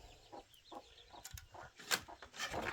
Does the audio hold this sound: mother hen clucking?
yes